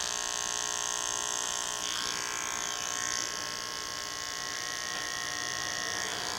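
An electric T-trimmer hair clipper buzzes steadily and close up as it works along a man's hairline, its whine shifting slightly as the blades move through the hair, with no talking.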